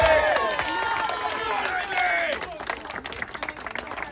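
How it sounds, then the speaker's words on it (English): Crowd clapping and cheering at an outdoor protest outside a migrant hotel in Diss, a broad wash of claps with voices over it that thins into scattered claps and chatter after a couple of seconds. "Give this girl a round of applause."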